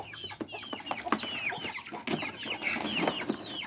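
Several Brahma chickens cluck and chatter up close in a busy, overlapping flurry of short calls, with no talking.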